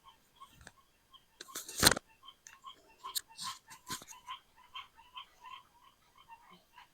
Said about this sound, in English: Y'all hear those rain frogs calling?